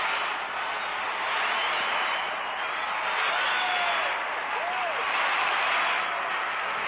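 A large arena crowd at a 1991 world gymnastics championship cheers and applauds for a team, a broad, continuous roar of clapping and voices held at steady loudness, with a commentator talking over it.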